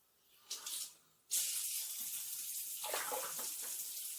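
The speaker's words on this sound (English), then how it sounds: "We're going to add some warm water here as soon as it gets warm." Warm water runs from a kitchen tap for dough making, a brief splash first, then a steady, close hissing stream that starts abruptly and flows on evenly with no talk.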